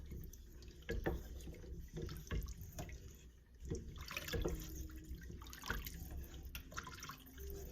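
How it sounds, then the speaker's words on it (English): Six cups of water in a pot on the stove come up to a boil for keto Zuppa Toscana soup, giving irregular bubbling, popping and gurgling at moderate, close level with no voices. "there's that boil I am looking for"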